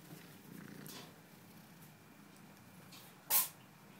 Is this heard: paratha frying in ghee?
no